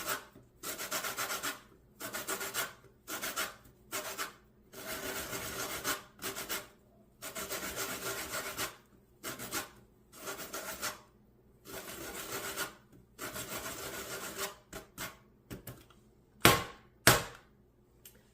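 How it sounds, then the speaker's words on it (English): A lemon is rubbed against a metal grater for zest in a home kitchen while baking blueberry muffins, giving a dozen or so rhythmic scraping strokes with short gaps. A few sharp taps come at the end. "let me just get some of the zest off of this."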